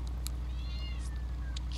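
A cat meows inside a video game, a few short high-pitched calls standing out over a steady low hum of game noise in the background.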